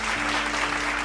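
An audience applauds during a religious gathering, a dense, even patter of clapping hands sustained throughout at moderate volume.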